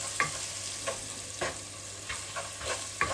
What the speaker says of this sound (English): so we're just going to stir that properly